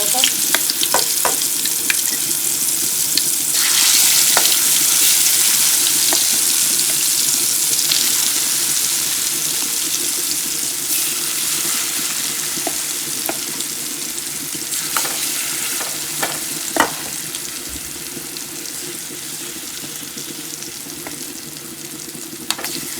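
Flattened fish sizzles and crackles in hot oil, a dense, continuous frying hiss with scattered pops and occasional clinks of utensils.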